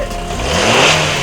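A swapped-in engine in an Acura fires up and roars loudly right away, holding a steady, close revving drone for about a second with no voices over it.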